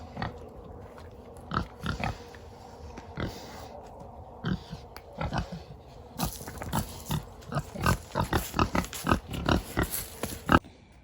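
Pigs on a farm snort and grunt in short, irregular bursts, close and moderately loud, with the snorts growing more frequent and busier toward the end.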